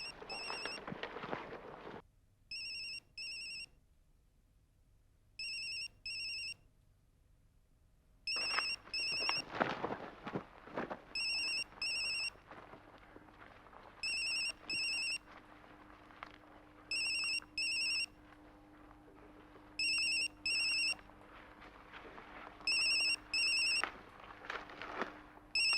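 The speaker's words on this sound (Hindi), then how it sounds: "बेल बज रही है।" A mobile phone ringing with a repeating electronic ringtone in short bursts of rapid beeps, steady and clear throughout, over a quiet room ambience with some rustling and movement partway through.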